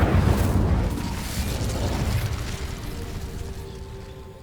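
A burst of spell fire from Hogwarts Legacy igniting dry vines: a loud booming whoosh at the start that settles into a steady rumbling roar, slowly fading over several seconds, with no talking.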